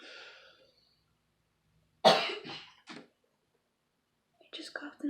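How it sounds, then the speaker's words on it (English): A single sharp cough sounds close by, quick and loud, between stretches of soft whispered talk. "You just coughed in my video."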